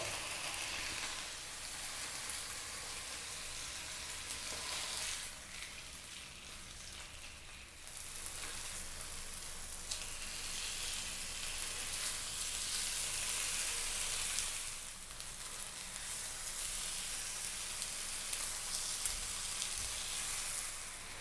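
Chicken pieces frying in a pan over medium heat, a continuous bright sizzle and crackle for the whole stretch, swelling and easing as the pieces are flipped now and then.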